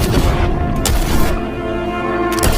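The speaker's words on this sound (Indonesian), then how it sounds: "John ditembak oleh Santi, yaitu adik perempuan Ramon" Gunfire scene in a film as a woman shoots a man from an upstairs terrace, heard as several loud booming bursts over a dense film soundtrack, no voices.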